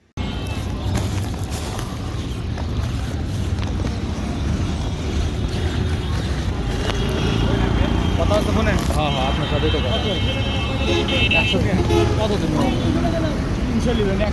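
Road traffic rumbles steadily around a bus stand, with a continuous low engine drone and passing vehicles that swell slightly toward the end, and voices chatter faintly nearby.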